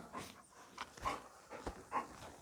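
Several dogs gathered at a farm shed pant and snuffle near the microphone in quick, uneven breaths, with a few soft whimpers mixed in and no talking.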